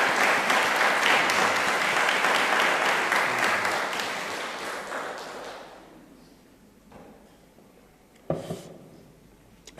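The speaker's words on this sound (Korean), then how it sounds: "우리 글로리아 성가대에게 격려의 박수 부탁드립니다" Applause from a church congregation for the Gloria choir during Sunday worship, a full burst of clapping that fades out after about five seconds, followed by quiet room sounds and a brief knock.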